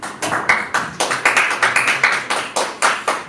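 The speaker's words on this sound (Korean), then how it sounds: "우선 격려에 임해서 여러분 박수 한번 보냅시다" Rhythmic, fairly close clapping at a press conference for foreign and domestic reporters, beating in an even, chant-like pattern of about a dozen sharp bursts with no talk over it.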